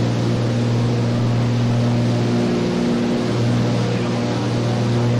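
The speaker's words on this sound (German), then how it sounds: "jetzt gibt der Motor wieder etwas Gas, weil er gegen den Wind an muss." In the X-Plane 11 flight simulator game, an aircraft engine drones as a steady, loud hum with a constant low pitch and an even noisy wash that holds unchanged throughout.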